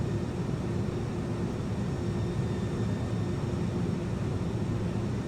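Jet engines of an iniBuilds A300 airliner in a flight simulator drone steadily with the throttle advanced during descent, a soft, even roar with a faint tonal whine and no speech.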